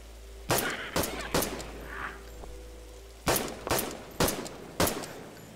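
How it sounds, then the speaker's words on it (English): Rifle fire in The Last Stand: Aftermath game, a quick burst of three sharp shots, then a pause with a faint tone, then four more evenly spaced loud cracks, with no voices. "We got him with a rifle"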